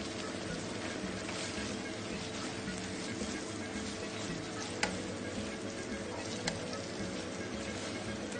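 Glass noodles stir frying in a pan, a steady close sizzle with soft stirring scrapes and a couple of faint clicks, with no talk over it.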